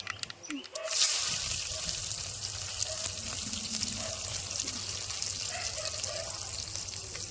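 Mustard seeds and onion dropped into hot oil for a Kola fish kuzhambu, a sudden hiss breaking into steady close frying sizzle with faint background sounds and a voice nearby.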